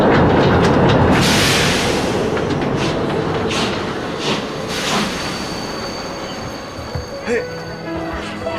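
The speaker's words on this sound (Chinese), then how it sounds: "火车进站，大家往后站" A steam-era train pulls into a station in a period drama, its loud, close rumble and rattling clatter filling the scene at first, then easing off as it slows, with a few sharp metallic knocks near the end.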